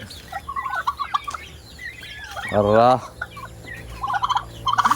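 A pet turkey lets out a single loud, throaty gobble in the middle, with softer clucks and bird calls from other fowl scattered before and after.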